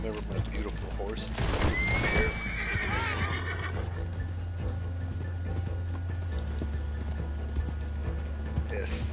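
In a video game, a horse gives a loud, shrill whinny, then hooves clop along steadily while a low engine-like hum drones underneath.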